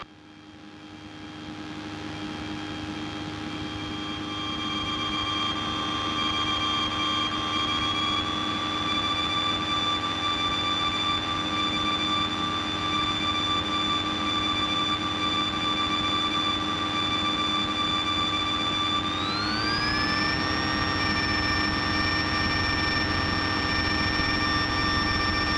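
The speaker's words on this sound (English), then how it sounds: "airspeed's working, 60 knots, 70, and we're going flying" A small airplane's engine builds to full power and holds a steady, loud roar through a takeoff roll, its pitch stepping upward near the end as it accelerates; no voices are heard.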